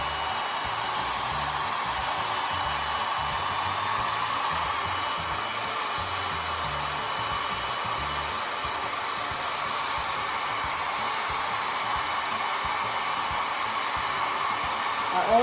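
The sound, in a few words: heat gun blowing hot air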